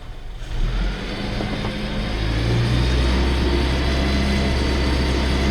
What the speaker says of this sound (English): now we'll just bring the revs up and see what it's going to be like